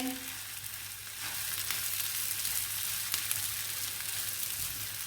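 Mashed potato mixed with onion and cumin in a lightly oiled pan for a potato sandwich filling, a steady close frying sizzle with faint stirring scrapes running continuously, no talking.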